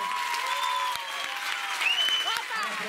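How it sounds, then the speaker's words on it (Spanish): An audience at a gala proclaiming a town's king and queen in Albelda de Iregua applauds steadily and loudly throughout, with whistles and cheering mixed into the clapping. "Lucía, ese aplauso."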